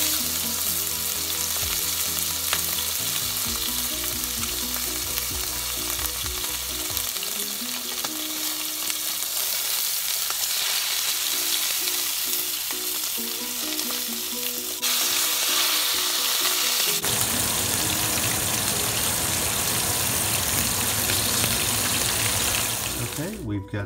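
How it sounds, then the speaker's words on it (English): Picanha steak searing in a hot oiled pan, a steady loud sizzle and crackle of frying fat that runs alone throughout, with a few stirring or handling noises mixed in. "We're gonna drop one of these in there and let it sear up."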